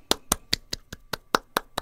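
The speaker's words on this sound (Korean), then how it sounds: "박수" A single person claps hands nine times at a steady, even pace during a music lesson, each clap crisp and distinct against a quiet room.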